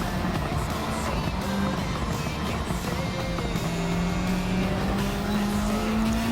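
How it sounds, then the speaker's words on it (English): A Toyota GR Supra Racing Concept race car in Gran Turismo 7, racing in the GT Cup Gr.3, roars continuously and loudly with engine pitch climbing through the gears, faint tire squeal underneath. "the GR Supra Racing concept pushes on and go for the final showdown"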